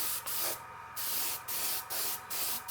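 An airbrush sprays colour onto a cake to create a sandy beach texture, with short hissing bursts repeating in an uneven rhythm, close and fairly soft.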